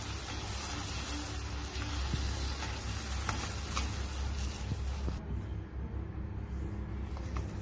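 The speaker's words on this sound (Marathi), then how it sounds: "मसाला फ्राय करून घेते।" Masala with chopped curry leaves frying in a pan for matar paneer, a continuous hiss and sizzle that runs steadily throughout, with a low background rumble and occasional stirring scrapes.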